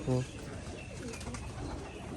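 Giribaz pigeons cooing at a pigeon farm in Rajshahi, with a short low coo up close at the start and fainter bird calls under continuous farm noise and some talk.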